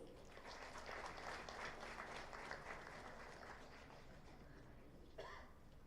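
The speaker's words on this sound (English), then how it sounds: "Let's welcome all the guests with a round of applause," An audience claps for guests at a media and entertainment business conference, sustained, fairly even applause from a large hall with a faint cough near the end, quiet overall.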